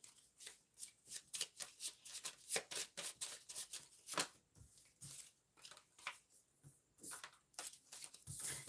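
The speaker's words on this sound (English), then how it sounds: "let me shuffle one more time because I had too many cards falling out" A deck of tarot cards is shuffled by hand in quick repeated riffles and slaps, crisp and close, continuing in uneven bursts for several seconds with no talk.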